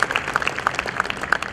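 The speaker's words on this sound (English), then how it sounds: "can I have huge round of applause for this beautiful session." Short burst of audience clapping after a panel discussion session, scattered individual claps at moderate loudness, only a second or so long.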